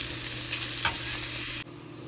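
Tofu shallow-frying in a pan with a steady close sizzle, a couple of brief utensil clinks partway through, then a sudden drop to a quieter hiss.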